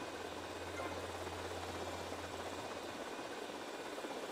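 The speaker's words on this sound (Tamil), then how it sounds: "ஐ திங்க் இது சான் ஆண்ட்ரஸில் ஓட்டின அதே ஹெலிகாப்டர்," A helicopter engine from GTA Vice City Definitive Edition drones steadily as a dense, continuous whirring roar with a low hum, with no breaks over a few seconds.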